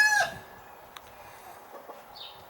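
A backyard rooster lets out a brief crow right at the start, then the yard falls quiet apart from faint scattered clucks and one short high call near the end.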